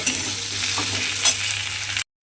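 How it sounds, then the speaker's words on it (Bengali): Taro (gathi kochu) frying in hot oil with onion and garlic, a close, continuous sizzle and hiss with a brief stir, then an abrupt cut to silence. "দিয়ে এবার এই পেঁয়াজ রসুনের সঙ্গে তেলের মধ্যে কিন্তু এইভাবে একটু ভেজে নেব"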